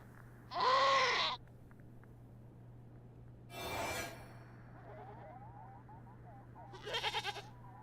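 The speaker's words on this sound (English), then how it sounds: "the goat lets out a satisfied bleat and turns around" A goat in the video game Wasteland 3 lets out a loud, wavering bleat up close, followed by quieter rustling and a couple more short bursts of noise over a low hum.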